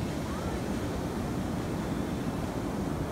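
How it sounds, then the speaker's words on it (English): Continuous broad wash of ocean surf on the beach at Rincon in Ventura, a steady roar with wind buffeting the microphone and no distinct wave breaks. "something about the ocean is just so mesmerizing"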